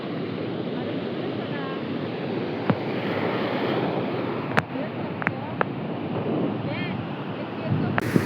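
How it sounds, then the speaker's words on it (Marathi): Large sea waves roll onto a beach at high tide, a loud continuous surf wash with wind buffeting the microphone and a few faint voices in the background. "लाटा खूप मोठ्या येत आहेत"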